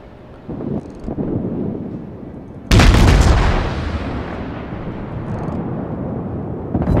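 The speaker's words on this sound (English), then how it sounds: "I'm going to launch torpedoes in his general direction." A cruiser firing in World of Warships lets out a sudden heavy boom midway, which then rumbles and fades over a low windy background hum.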